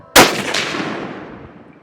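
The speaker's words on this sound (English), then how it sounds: "Nice shots, bro." A single loud gunshot at an outdoor shooting range, a sharp blast followed by a long, slowly fading echo.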